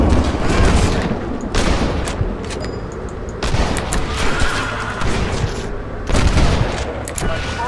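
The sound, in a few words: gunshots in Red Dead Redemption video game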